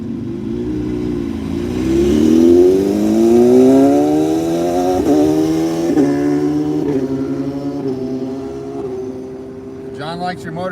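A motorcycle engine revs on a road in the Phoenix area, its rising and falling harmonic whine sustained throughout at fairly loud level, shifting pitch several times, with a brief burst of voices near the end.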